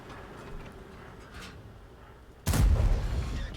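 A tank cannon fires one shot in a tank video game: a single loud, booming blast lands suddenly after a quiet stretch of low background hum, then rumbles on.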